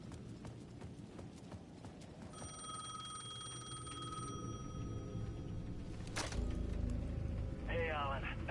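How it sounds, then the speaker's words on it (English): A payphone rings on a plaza in the video game Alan Wake 2. The bell-like ring sounds over a noisy, busy game soundscape with clattering and a hum in the background. "The payphone at the edge of the plaza was ringing again."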